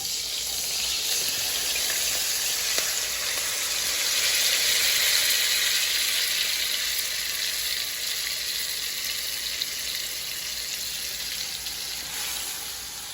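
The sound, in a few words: washed rice added and sizzling in hot pan for yellow rice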